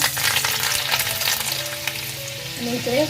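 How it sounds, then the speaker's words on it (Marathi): Garlic crackles and sizzles in hot tempering oil for a surmai fish curry, close and continuous, with a few stirring scrapes. "आता आपण फोडणी द्यायला घेतोय इकडे आपण लसूण घालते"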